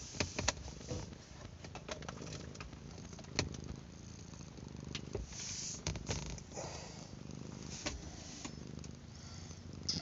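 A cat purring close by inside a car while being stroked, a steady low rumble running throughout with scattered soft rustles and clicks over it.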